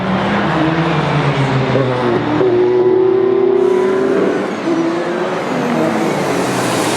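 Race cars at the 2016 6 Hours of Spa, with an Audi, Porsche and Toyota battling through La Source; a steady loud engine roar with one car's rising whine passing, continuous and close.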